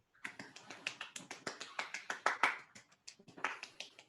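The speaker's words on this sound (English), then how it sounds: "Keep that applause going for Zach." A small group in a socially distant at-home comedy show claps, giving a thin, sparse applause of distinct close hand claps in an uneven rhythm. There is a brief pause before a few final claps.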